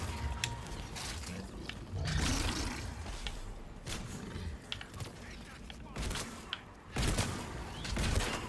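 Close-range shotgun blasts in an intense video game firefight come as several sharp, loud bursts spaced irregularly. Game voices and other combat noise run underneath.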